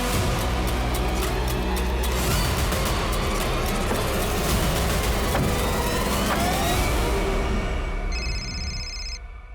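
A car driving steadily with continuous engine and road rumble close by, broadband and loud throughout, with a brief tonal beep near the end.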